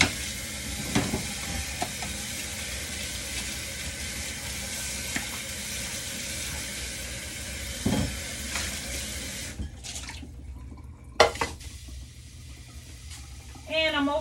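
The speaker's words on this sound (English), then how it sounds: "So I'm gonna go ahead and rinse this off." Food being rinsed under a running kitchen tap, a steady stream of water hissing into a sink for several seconds before cutting off, then clattering handling sounds.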